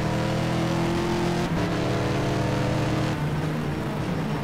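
An Audi R15 prototype race car in a racing video game holds a loud, sustained engine drone, dipping twice as it shifts gears and climbing again, with no talking.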